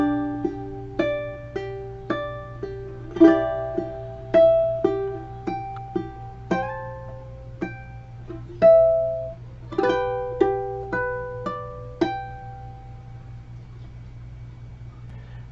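Fingerstyle ukulele plays the hymn Be Thou My Vision at a moderate tempo, clear plucked single notes and small chords ringing and decaying one after another, close and alone without talk.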